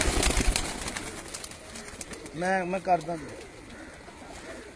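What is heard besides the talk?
pigeons cooing on a rooftop loft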